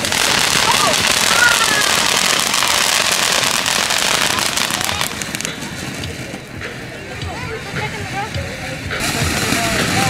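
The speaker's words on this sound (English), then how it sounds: "gonna be doing some fireworks, right?" July 4th fireworks go off in a dense barrage of loud crackling bursts and pops that ease slightly, then pick back up, with people talking nearby.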